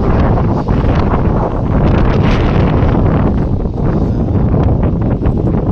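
Strong wind buffets the microphone in a continuous loud roar, with gusts rising and falling.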